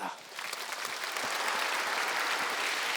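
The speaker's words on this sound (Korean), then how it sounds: "하나님께 우리 박수하겠습니다." A church congregation at a Wednesday worship service breaks into applause, which swells after a brief lull into a continuous wash of hand clapping that holds steady and fills the room.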